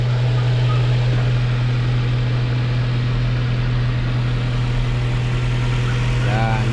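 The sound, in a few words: Mazda 3 engine idling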